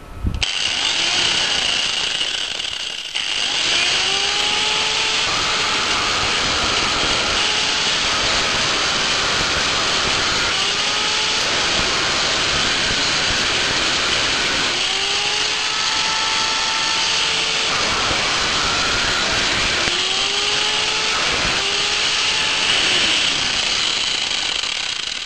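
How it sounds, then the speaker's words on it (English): A 500 watt cutting angle grinder powered by a homemade 1000 W pure sine wave inverter, a loud continuous whine with repeated rising and falling pitch sweeps as the load changes, close and steady throughout. "I'm using a 500 watts cutting angle grinder, testing the load"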